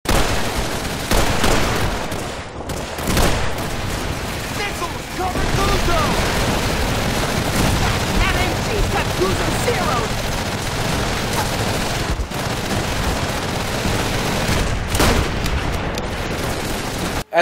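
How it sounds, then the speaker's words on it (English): Gunfire in Call of Duty 3 keeps up a dense, loud barrage of rapid shots with heavy battlefield booms, steady across the whole stretch, with a voice talking over parts of it. "Isn't it fortunate that there's a nice scoped Springfield right there so you can take out the machine gun while Guzzo goes out to mark artillery targe"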